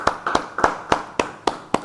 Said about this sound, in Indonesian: Yang setuju beri tepuk tangan buat Tuhan.